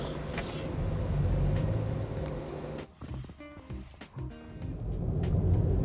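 A car drives along the road, heard from inside as a quiet, low rumble of engine and tyres with a brief dip and a few light knocks midway.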